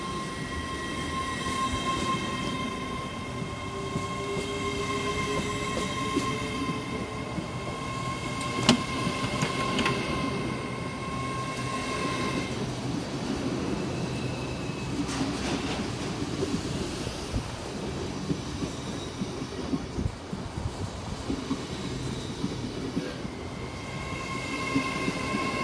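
An LNER Class 801 train pulling out of Platform 1 at Peterborough station, a steady loud rumble and whine of rolling stock passing close by for the whole stretch, with occasional clanks over the rails.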